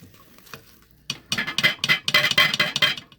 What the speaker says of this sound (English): this is where I like to give it a good stir, and we're going to let it cook some more.